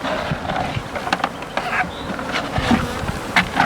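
Honey bees buzzing during queen rearing, a dense, continuous close hum of many bees with small flickers and knocks, no voices.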